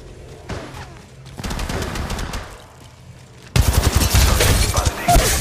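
Gunfire in Apex Legends, with bursts of automatic weapon fire growing louder and denser, ending in a heavy, sustained volley up close.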